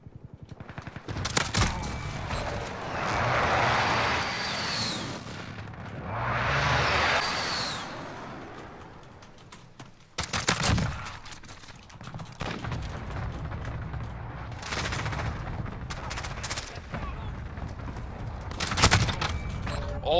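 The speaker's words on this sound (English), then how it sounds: "Enemy precision airstrike inbound. Take cover." Call of Duty Modern Warfare enemy precision airstrike: loud rolling blasts and rumbling explosions with sharp cracks of gunfire recur through the scene, heavy booms swelling and fading near and far, with brief voices.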